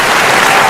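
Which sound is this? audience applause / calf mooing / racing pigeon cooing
audience applause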